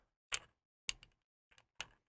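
The pommel of a neopixel lightsaber squeaks as it is pulled out, heard as four short, crisp scrapes spaced about half a second apart, quiet and isolated against silence.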